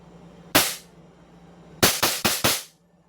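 A Staccato 3.8 pistol fires a single sharp crack, then a quick string of four shots in rapid succession, each loud and close with a short fading tail.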